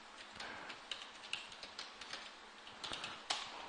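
Quiet, irregular keystrokes tap on a computer keyboard, a few sharper clicks standing out among lighter ones, with no voices.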